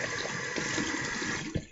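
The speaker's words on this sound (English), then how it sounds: "I run cold water on that same towel" Cold tap water runs steadily onto a towel at a bathroom sink during wet shaving, a close, continuous hiss of flowing water with a brief splash near the end.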